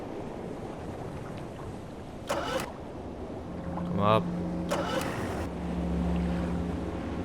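A small boat's outboard motor in a video game built on the Crysis engine hums steadily at low pitch over wind and water, with brief splashing bursts and a voice speaking briefly over it.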